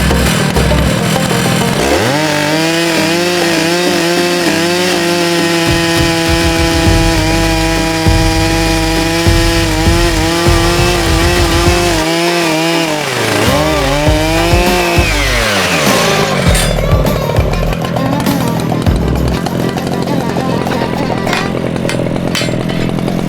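A chainsaw mill cuts through a log destined for a life-sized hippo carving. The engine runs loud and steady for about thirteen seconds, rising and dipping in pitch with the cut, then drops away into quieter idling and rattling.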